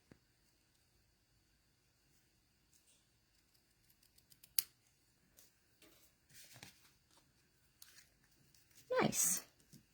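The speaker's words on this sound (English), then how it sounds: "then we'll cut this down that way" Scissors snip through craft cardstock in short bursts, a few scattered crisp cuts and then a longer, louder slicing stroke near the end, close up and otherwise quiet, with no speech.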